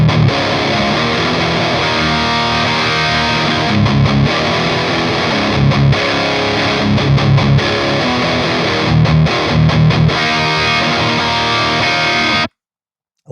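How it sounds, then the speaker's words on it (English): An electric guitar plays distorted chords and riffs through the dirty channel of an Orange Rockerverb 50 Mark III amp, loud and thick with brief choppy pauses, ending abruptly in silence. "I'm playing through the Rockerverb 50 Mark III right now on the dirty channel."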